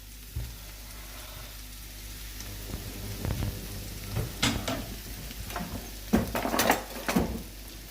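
A medium onion and a handful of mushrooms frying in a pan over medium-high heat, with a soft sizzle and intermittent stirring scrapes and crackles growing louder toward the end.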